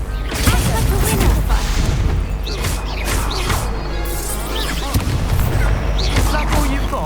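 Hogwarts Legacy spell combat, where the Confringo fire-blast spell explodes amid repeated booms, crashes and whooshing effects, loud and dense for several seconds, with game voices woven through.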